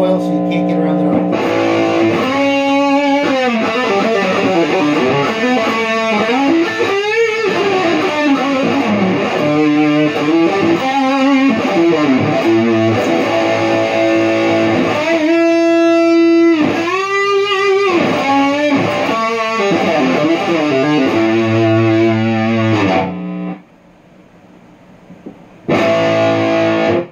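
A distorted electric guitar with single-coil pickups plays chords and riffs through a Rowin DAP-2 multi-effect overdrive, loud and continuous, dropping out briefly near the end.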